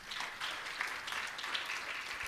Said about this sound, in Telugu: ఒకసారి చప్పట్లు కొట్టండి.